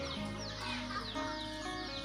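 Chickens cluck and chatter in a rural Bru village, several birds calling repeatedly at moderate distance over steady outdoor ambience.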